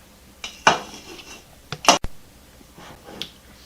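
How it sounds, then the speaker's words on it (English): A lid being worked off a jar of fermenting cranberries gives a few sharp metallic clicks and clanks, two louder snaps among smaller taps, close and otherwise quiet. "And getting the lid off is a challenge."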